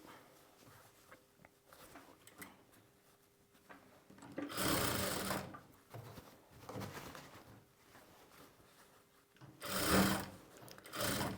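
Sleeves being stitched on a sewing machine, heard as two loud bursts of whirring, one long and one short, separated by quieter handling noise at close range.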